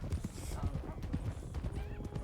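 A horse in RedM with rhythmic clip-clop of hooves throughout and a whinny near the start, heard up close while someone talks over it.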